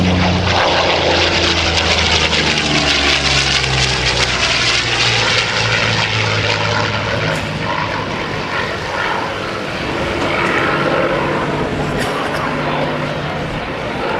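A P-51 Mustang with an Allison V12 piston engine roars past at an air show, loud and droning, its pitch sweeping down as it flies by and fades slightly.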